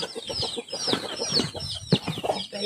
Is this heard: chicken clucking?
yes